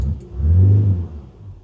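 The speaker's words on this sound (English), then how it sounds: "I'm going to leave the van idling for a bit" A Ford Transit Connect van engine idles nearby, a low steady rumble that swells briefly before settling back.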